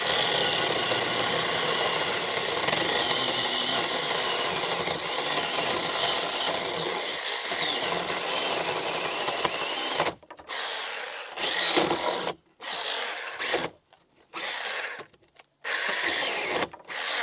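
A Makita cordless chainsaw with an old chain cuts through a dry wooden beam, a loud continuous whining buzz at first, then breaking into short bursts separated by abrupt silences as the motor stops and starts.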